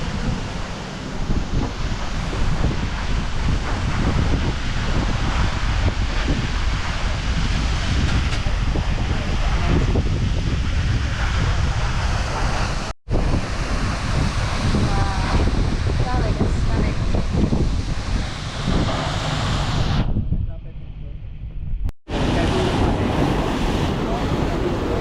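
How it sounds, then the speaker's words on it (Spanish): A large permanent waterfall roars in a continuous, loud, broadband rush, with heavy wind buffeting on the microphone and a couple of brief dropouts. "Esta es la cascada permanente más grande,"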